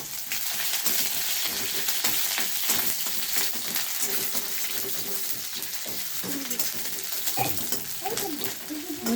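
Onions fry in a pan with a steady, dense sizzle throughout, joined by occasional stirring scrapes and light clinks of utensils near the end.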